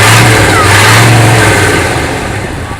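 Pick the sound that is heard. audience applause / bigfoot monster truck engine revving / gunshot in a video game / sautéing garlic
bigfoot monster truck engine revving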